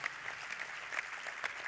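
An audience at a youth sports conference in Doha claps in a steady round of applause, fairly close and even, with a few sharper individual claps standing out.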